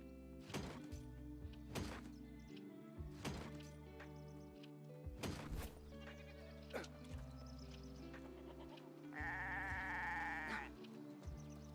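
In the online game New World, sheep bleat again and again, with several sharp thunks in between and a longer bleat near the end, all moderately close against a steady background hum of game ambience.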